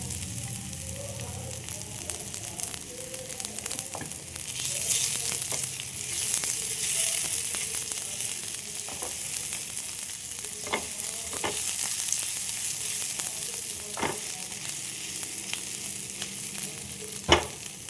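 Chopped garlic, green chili and ginger frying in hot oil for aloo paneer paratha, a continuous soft sizzle with scattered spoon taps and scrapes throughout, fairly quiet and without talking.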